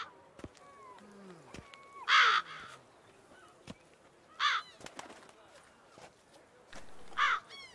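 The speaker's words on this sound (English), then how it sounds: "A lot of crows." Crows caw in the video game Witcher 3, with three loud, harsh bursts of calls spaced a few seconds apart over a quiet bed of softer bird chirps and scattered clicks.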